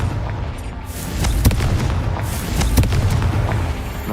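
Repeated booming blasts from the Confringo spell in Hogwarts Legacy, several sharp explosive hits spaced over a dense, rumbling game soundscape, loud and close.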